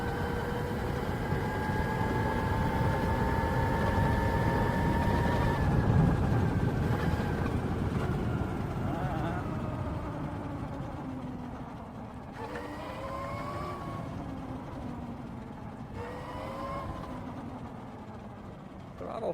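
A 72 volt Mototech Pro electric motorbike on a quick test run gives off a steady whining motor tone that rises and falls in pitch with the throttle, over a constant low rumble of road and wind noise, with no talk.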